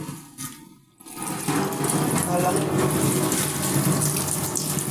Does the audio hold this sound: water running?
yes